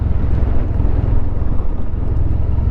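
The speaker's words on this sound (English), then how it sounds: "wind's coming in there" Steady, loud wind buffets a microphone outdoors by the seafront pier at Bangor, Wales, giving a continuous low rumble that covers everything else.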